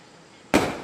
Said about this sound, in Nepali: यो पटेका पड्केको देख्दाखेरि चाहिँ यति मन खुसी लाग्ने